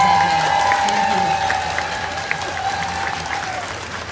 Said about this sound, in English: Let us welcome her and give her a round of applause